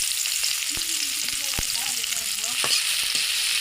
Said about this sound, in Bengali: এই যে এইভাবে পেঁয়াজটা ভেজে নেব, একটু ভাজা ভাজা করে নেব।